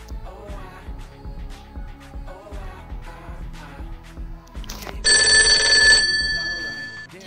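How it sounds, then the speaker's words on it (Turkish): Telephone ringing in the Toca Life World game: a bright electronic ring bursts in near the end, loud and sustained, after stretches of game music and people talking. "Telefon çalıyor."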